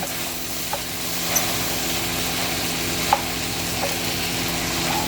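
Food sizzles and fries steadily in a skillet while being mixed together, a continuous crackle with a few sharp scrapes or clicks of a utensil against the pan.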